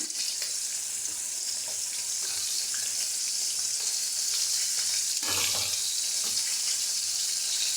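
Sardines (mathi) sizzle steadily in a frying pan for a crispy fish fry, with a loud, continuous hiss of hot oil and a few soft scraping knocks as the fish is flipped partway through.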